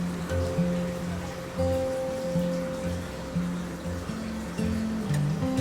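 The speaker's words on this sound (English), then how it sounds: "It's raining today" Steady rain falls outside on a rainy day at a home, a soft continuous patter with a faint low hum running underneath, no voices.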